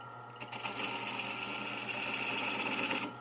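Wood lathe taking a fine finishing cut on a turned bowl: a steady, close motor whir with a bright, even hiss of the tool on the wood, holding constant for about three seconds without talk.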